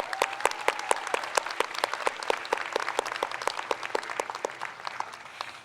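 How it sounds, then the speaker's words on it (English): Steady audience applause at a university convocation following a vocal quartet's performance, with many sharp, regular claps carrying through a moderately loud crowd and gradually easing off toward the end. "Let's give them another round of applause."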